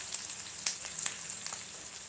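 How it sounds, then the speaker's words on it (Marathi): Onion fries in oil in a pan with a quiet, steady sizzle dotted with light crackling pops. "कांदा छान तेलामध्ये होऊ द्यायचा"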